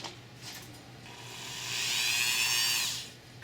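A small rotary grinder works on electroformed copper jewelry, a thin high whine that builds and grows louder for about a second in the middle before easing off, heard close with no talking.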